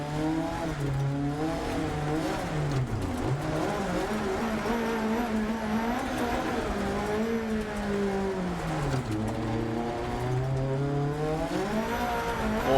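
Rally car engine in the Dirt 2 VR racing game, revving steadily with rising and falling pitch through gear changes, loud and continuous, with faint tire noise and no talking.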